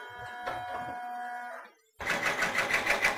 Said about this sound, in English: now while this is sewing,